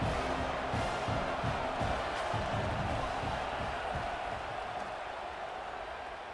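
A stadium crowd roars steadily during a punt return in College Football 26. The broad, continuous noise stays loud throughout and eases slightly toward the end, with no distinct cheers breaking out.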